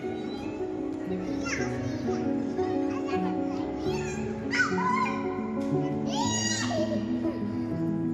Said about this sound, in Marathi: इथे आल्यानंतर स्वरूला आणि निहुला मस्त कॅट भेटली आणि बस ते लोक त्यां तिच्याबरोबरच खेळत बसले